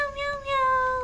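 A cat gives one clear, drawn-out meow, tonal and close, in a quiet room.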